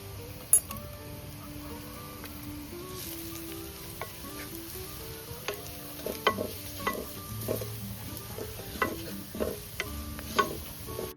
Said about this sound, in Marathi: आता आपण त्याच्यामध्ये हळदी, आपला आगरी मसाला घालून मसाला शिजवून घेऊया